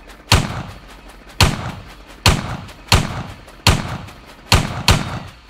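Gunfire from a gun in the video game Ylands, fired inside a dim cave: seven sharp, loud shots, spaced about a second apart, with the last two close together. Each has a short echoing tail, and no one speaks.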